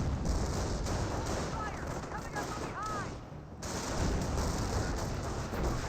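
Dense battle gunfire from Company of Heroes, rifle and machine-gun bursts crackling continuously at steady loudness, with a brief dip in the middle before the rattle resumes, all under a broad wash of battlefield noise.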